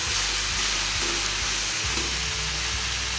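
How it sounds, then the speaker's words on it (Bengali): Chow mein noodles and vegetables are stirred in a hot pan, giving a steady, loud sizzle with soft, repeated scraping strokes underneath. "এবার আমি চাউমিনটা অ্যাড করে দেবো, কম কম করে অ্যাড করবো, করে নাড়বো।"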